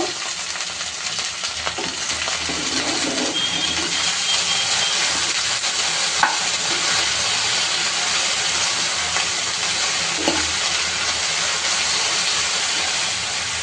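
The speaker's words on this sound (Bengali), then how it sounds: "এরপরে আমি একটু নাড়াচাড়া করে দিব।" Okra frying in a wok with salt added, stirred gently: a steady, close sizzle runs throughout, with a few soft scraping knocks of the stirring utensil and no talk.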